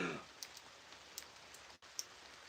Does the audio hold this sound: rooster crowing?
no